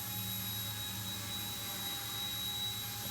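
A BO-105 helicopter flies in gusty wind, its steady whining turbine and rotor drone continuous and fairly close, with a high tonal whine riding over a broad rushing hiss.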